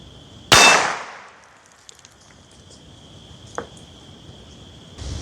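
Subsonic CCI .22 LR single-shot rifle fired at an exploding target outdoors: one sharp loud crack followed by a decaying tail, then faint distant ticks over steady insect chirping.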